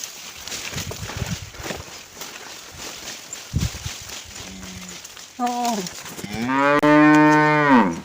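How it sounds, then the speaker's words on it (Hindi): A cow moos repeatedly in a rural Indian village area near forest, its long harmonic calls rising loud and close in the latter half after a stretch of quieter outdoor ambience and faint speech. "ये देखो एक गाय दे रही मुझे आवाज।"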